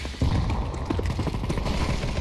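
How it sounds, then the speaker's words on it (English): Video game gunfire in a tactical team shooter, a muffled, rapid burst of overlapping shots and thuds that carries on without pause, some distance away, with no voices. "there's a lot of gunfire, so let's go see and help them out"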